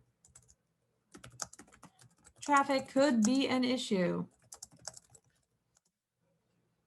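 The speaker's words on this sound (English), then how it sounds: "Ignore my typing skills at the moment." Quick bursts of computer keyboard typing, close and fairly soft, come before and after a short stretch where a person talks, during a workshop on heritage site monitoring.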